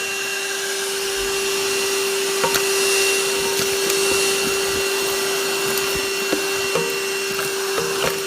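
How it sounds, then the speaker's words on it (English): Cordless stick vacuum cleaner running steadily as it sucks up fine debris and small sticks, a loud continuous motor whine with a few clicks and rattles of pieces being drawn in. "let's give the Whole Life vacuum cleaner a little shot here"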